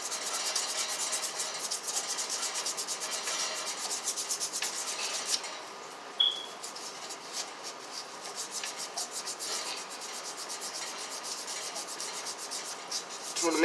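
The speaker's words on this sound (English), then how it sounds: "Got a little what you call it, sandpaper." Sandpaper rubs a copper pipe clean before soldering, a close, continuous scratchy rasp of quick back-and-forth strokes with a brief pause midway, no talking.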